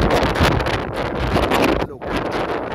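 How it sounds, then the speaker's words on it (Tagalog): Strong wind at Mayon Volcano buffets the microphone in loud, continuous gusts with a brief dip near the end. "Ito ay napakalakas na hangin"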